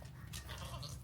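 Goats on a homestead bleating briefly at close range, the calls fairly faint against a steady low background rumble.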